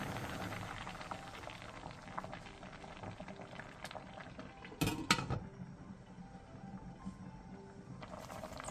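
Radish simmers in anchovy broth in a covered pot over medium-low heat, a faint steady bubbling and hiss with a few soft lid clicks and creaks.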